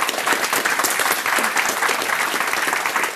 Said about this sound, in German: Euer Applaus